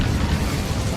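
Casting the Incendio fire spell in Hogwarts Legacy gives a loud, dense, rumbling whoosh of flame that fills a single second with no voice over it.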